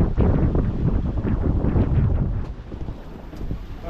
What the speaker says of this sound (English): Oh, the wind's picked right up now.